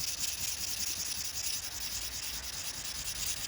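An opal stone is sanded by hand, giving a continuous close, even rasping rub that keeps a steady rhythm throughout with no talk.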